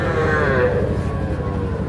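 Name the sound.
cattle at a livestock market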